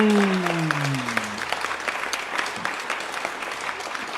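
Loud applause from a large class audience after a presentation, dense clapping that fills the space after a brief tonal sweep at the start.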